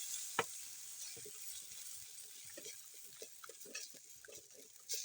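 A pot of rice and egg stirred over a village fire, faint soft scrapes and gentle knocks at an uneven pace over a quiet background hiss.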